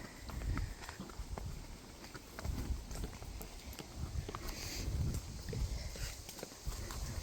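A horse walking on a small farm, steady rhythmic hoof clip-clops over a continuous outdoor rumble and hiss, fairly close, with no talking.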